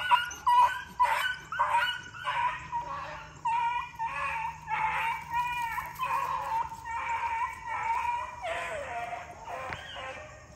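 A beagle puppy on a deer trail gives a long run of close, high yelping barks and whimpery bays in quick succession, carrying on without a break.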